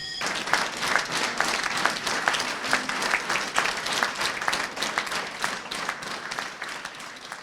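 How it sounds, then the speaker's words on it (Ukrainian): Sustained applause from a crowd of mourners bidding a final farewell to an actor and soldier at a funeral in Chernihiv, steady and dense throughout with no talking. "проводжали його в останню путь під оплески"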